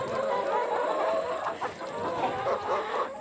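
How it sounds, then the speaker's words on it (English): Chickens cluck steadily inside a chicken coop, close and continuous, a busy flock murmuring with a few louder bursts of cackling throughout, with no voices over it. "we're looking for a chicken named Crooked Beak"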